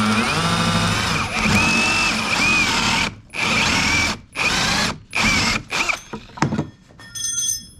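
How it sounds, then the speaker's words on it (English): A power drill bores out a hole in a heavy-duty budget workbench, whining in long loud bursts that break into shorter stop-and-start runs toward the end, close up with no voices. "Now we're going to drill it out."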